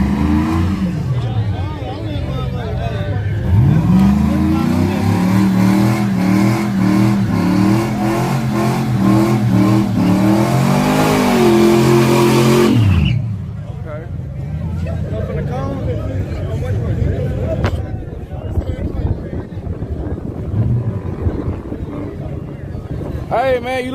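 Drag racing cars roar off the line at a drag strip, a loud rising engine scream that builds and cuts off after about thirteen seconds, followed by lower rumbling, wind buffeting and people talking.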